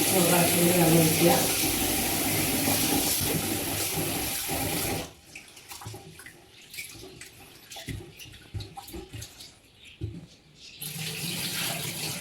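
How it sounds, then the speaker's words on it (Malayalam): Water is poured over soaked rice while making idli dosa batter: a steady, loud rushing stream close by. It breaks off midway into quieter clinks and splashes, then the flowing water starts again. "വെള്ളം ഒഴിക്കുക."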